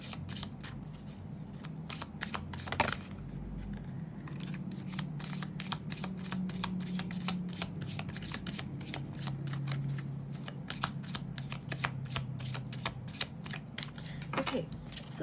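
Tarot cards are shuffled continuously in close, crisp riffles and slides, a rapid papery flutter lasting the whole stretch over a faint low background hum, with no speech.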